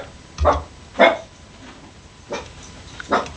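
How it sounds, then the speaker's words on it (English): A female dog barks indoors near a fly-tying bench, four sharp separate barks spaced about a second apart, moderately loud and close over a quiet room. "ignore the dog, she's barking at me because I bumped my vise, made a noise"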